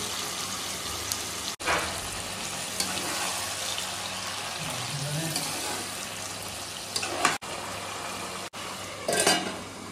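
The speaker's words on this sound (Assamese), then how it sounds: "আৰু এতিয়া দিম আমি বেম্বো চুপ মেইন বস্তু" Pork and bamboo shoots, with their soaking liquid, sizzle and bubble steadily in a pan. A spoon clinks and stirs a few times, with no talking.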